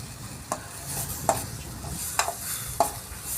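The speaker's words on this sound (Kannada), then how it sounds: "ತುಪ್ಪ ಹಾಕಿದ್ಮೇಲೆ ಈ ತರ ಮಿಕ್ಸ್ ಮಾಡ್ಕೊಳ್ತಿದ್ದೀನಿ" A carrot laddu mixture is stirred in a pan with ghee, giving four distinct scraping strokes over a soft, low sizzle, close and without talk.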